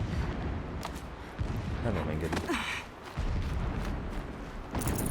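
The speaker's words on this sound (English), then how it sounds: "Explosions in the distance." Distant explosions in the video game Horizon Zero Dawn, deep rumbling booms rolling beneath a voice and heavy low game noise, with a few sharper bursts.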